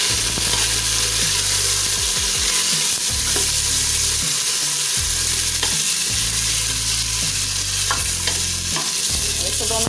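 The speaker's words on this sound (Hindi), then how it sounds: "अब हम इसमें अपना ऐड कर देंगे चिकन। हल्की आंच से इसको भूनें।" Chicken pieces sizzling and being stirred in a pan of golden brown onions over low heat, with a steady close fry hiss and repeated scraping strokes of the spoon, no voices.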